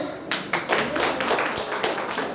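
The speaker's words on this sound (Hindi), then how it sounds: "लाफ्टर चैनल किस किसने देखा, ताली बजाइए" Studio audience at a Hindi comedy show breaks into clapping, a dense, steady patter of many hands that starts abruptly and carries on at an even level.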